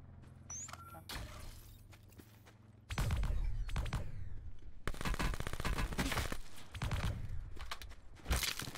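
Gunfire in the video game Call of Duty Blackout comes as sharp rapid bursts and scattered single cracks, loud and close, with quieter clicks and shuffling between volleys.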